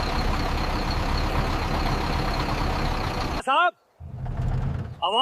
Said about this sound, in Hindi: कोई भारी गाड़ी आ रही है,